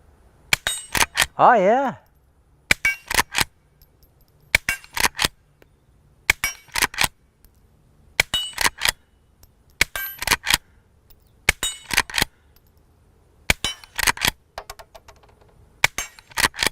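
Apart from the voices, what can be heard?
suppressed Henry Frontier lever gun shots hitting steel plate rack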